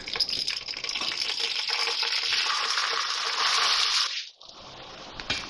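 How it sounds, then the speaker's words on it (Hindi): Boiled rice tipped into a hot pan with cardamom for sweet zarda, giving a loud steady sizzle and rush that stops abruptly, followed by quieter scraping and a light knock. "तो अब मैं राइस डाल रही हूँ इसमें"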